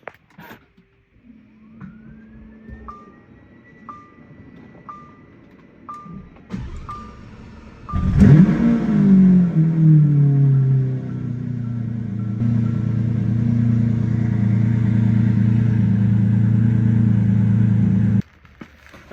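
A Lamborghini with a warning light on starts up: first a few chimes and starter clicks, then the engine fires with a loud rev that settles into a steady, deep idle lasting about ten seconds before it cuts off.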